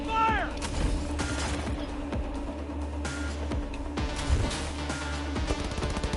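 Gunfire in Cyberpunk 2077, scattered sharp shots and bursts amid mechanical clatter and game effects, fairly close and moderately loud.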